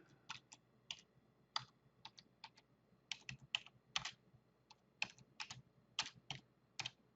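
Someone types a short group name on a computer keyboard, a quiet, close run of light clicking keystrokes in uneven bursts with no speech.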